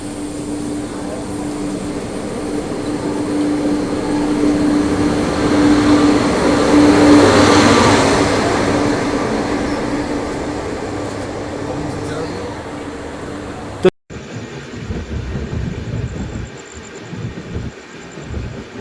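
Passenger train ride on the Andhra Pradesh Express as the Tulsi Express passes: a loud, rising and falling rumble and rush of the overtaking train, peaking midway, then an abrupt cut to quieter carriage noise.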